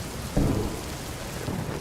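Heavy rain pours steadily outdoors, and a brief roll of thunder breaks through near the start, with a fainter rumble toward the end beneath the constant downpour.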